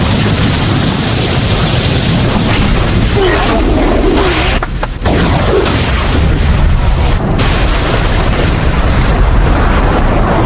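A fire-style fireball jutsu explodes during a Naruto shinobi fight: a loud, sustained roaring blast fills the whole stretch, dipping briefly midway before surging on just as heavily.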